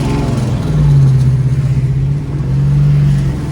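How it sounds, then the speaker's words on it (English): A 1970 Dodge Challenger convertible with a 408 stroker V8 revs twice, a deep rumbling idle swelling into two sustained, loud engine pulls with a brief dip between them. "I got to rev it a little bit to give it a little bit of gas and clean it out some"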